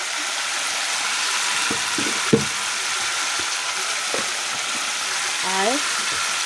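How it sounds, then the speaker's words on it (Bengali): Spices fry in a hot pan for a mustard-flavoured bean chorchori, a loud continuous sizzle broken by scraping stirs and light utensil knocks, with a brief voice near the end. "এই যে এখন মশলা ভাজাভাজি চলছে।"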